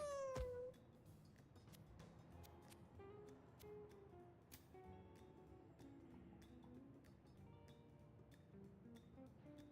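Cat meows in the video game Mewgenics: one clear meow at the start, then fainter scattered cat calls and clicks over a quiet game background.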